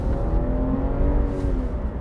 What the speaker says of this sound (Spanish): ahí se escucha el sonido del 6 cilindros